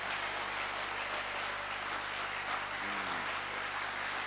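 A church congregation applauds and calls out praise to the Lord, a steady roar of clapping that fills the room evenly for several seconds.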